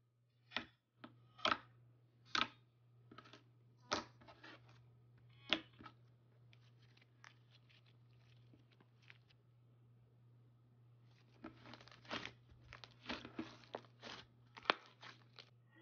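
Clicky, soft Peeps Puffs slime from Satisfactory Store being squished and poked, giving clusters of sharp, crisp pops and clicks in bursts with quiet pauses, close up with no talking.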